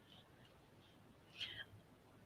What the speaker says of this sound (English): I just heard a red-tailed hawk